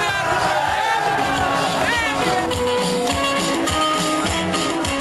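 A dense crowd surges around Benazir Bhutto's bus in the streets of Karachi, a constant roar of shouting and cheering voices that never lets up, with scattered louder yells rising out of it.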